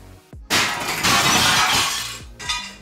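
A thick plate glass window in a 1960s house shatters with a loud, sudden crash, followed by a long spray of tinkling shards and a smaller second burst of breaking glass.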